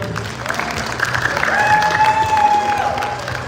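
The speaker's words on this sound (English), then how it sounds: "let's give a round of applause for you." A live stage-show audience in Portland, Oregon breaks into steady applause with some cheering and a few whistles, swelling midway and holding loud through the end.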